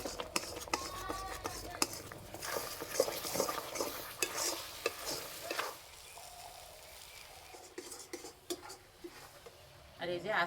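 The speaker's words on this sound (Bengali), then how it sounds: "আর এই যে নাড়ছি, যা সুন্দর গন্ধ বেরিয়েছে না।" A spoon stirs sticky kul (jujube) spiced pickle in a kadai, with repeated scraping and knocking against the pan over a faint sizzle, louder and busier at first, then quieter with sparse stirs near the end.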